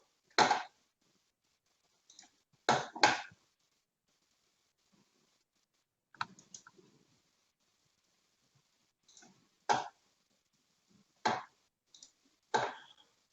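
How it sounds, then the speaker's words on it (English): Sharp computer mouse clicks during a desktop-sharing attempt in an online webinar, single and paired, spaced irregularly in near silence, close and fairly crisp. "I'm clicking this icon, sharing the desktop."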